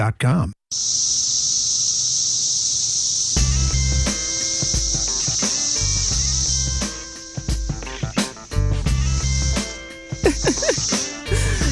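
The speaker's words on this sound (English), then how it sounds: "That is the lovely sound of the cicadas that you may be hearing quite often" Loud, continuous high-pitched buzzing of cicadas droning steadily throughout, while a person talks underneath.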